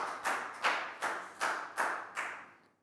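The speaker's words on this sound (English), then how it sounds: "big round of applause for Nadia." Year 4 class clapping in a classroom, six separate quick bursts of claps in a loose rhythm, fairly faint and with no talking over them.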